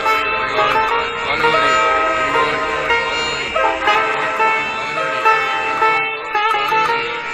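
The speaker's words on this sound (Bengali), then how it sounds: "ট্রেনের হর্নের শব্দ" A train horn blares in a long, steady, harmonic toot that holds loud and unbroken for the whole stretch, with slight swells in level.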